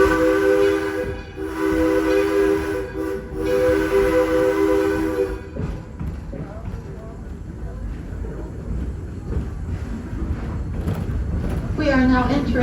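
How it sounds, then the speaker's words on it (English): A steam locomotive on a train ride at the Edison site sounds a loud multi-tone chime whistle in several long blasts, then rolls on with a rumbling, clattering run. A voice speaks over the train near the end. "enjoy the sounds that our steam locomotive makes as we move through here"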